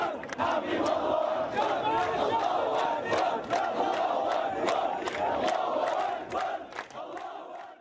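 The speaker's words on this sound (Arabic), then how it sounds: "شارك مئات الفلسطينيين الذين رددوا هتافات ضد إسرائيل" Hundreds of mourners at a Palestinian funeral for two young men shot dead chant loudly against Israel in unison, a dense, rhythmic crowd roar with shouted peaks, sustained throughout before easing slightly.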